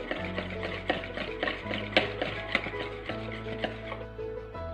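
Egg roll batter being mixed with salt in a bowl, a steady scraping and stirring with repeated light clicks of the utensil against the bowl, close and moderately quiet, no talking.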